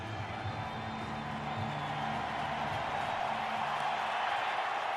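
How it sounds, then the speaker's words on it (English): Stadium crowd at an NFL game between the Seahawks and Cardinals in Glendale, a steady distant roar swelling slightly, with a voice talking over it near the start. "Loud crowd here in Glendale."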